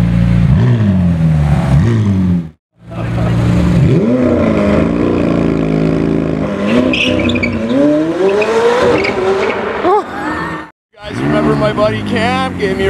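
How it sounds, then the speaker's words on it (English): A McLaren 765LT roars through a launch-control start, its engine note climbing in loud sweeping revs through gear changes with brief drops between, close by as a crowd cheers over it. "Oh my god, the 765LT is back."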